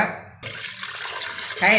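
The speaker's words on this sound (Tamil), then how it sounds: "எடுத்து வச்சுருக்க கயனி தண்ணியை ஊற்றிக்கோங்க." Water pours into a pressure cooker holding goat trotters for mutton soup, a steady close splashing gush after a brief quieter start, with a voice briefly audible near the end.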